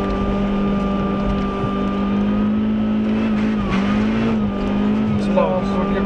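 A rally car on a race stage at the RatRace event in Anykščiai, its engine droning loud and close with a sustained high note, a brief dip and surge midway, while a commentator talks over it.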